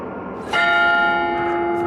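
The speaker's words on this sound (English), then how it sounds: "So we're gonna have to ring the bells in the proper order." A bell struck with a hammer in the survival horror game Tormented Souls 2 rings out loud and close in a single strike, its bright metallic tone sustaining and slowly fading over an ambient background.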